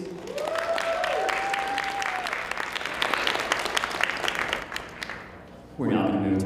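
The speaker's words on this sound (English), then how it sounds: "One last round of applause for all our candidates, please." Audience applause for candidates at the RPI GM Week 2024 debates, a sustained round of clapping in a hall with some cheering, ending as a voice begins talking.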